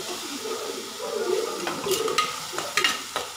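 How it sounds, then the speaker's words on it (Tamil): Tomatoes and onions sautéing in a clay pot for a Chettinad egg curry, a soft sizzle under scraping stirs and a few sharp clicks of the spoon against the pot. "ஸோ அதை நம்ம நல்லா வதக்கி விட்டுக்கலாம்."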